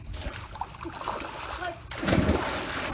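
Water splashing in a shallow backyard pool about four feet deep, a steady wash of sloshing and a louder splash near the end, with voices talking over it.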